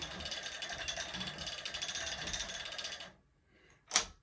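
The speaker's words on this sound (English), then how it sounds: "switch your ratchets around and roll it the other way" A ratchet on a longarm quilting frame clicks in a rapid, close train of metallic ticks for about three seconds as the backing is rolled, then stops, followed by one sharp single click a moment later.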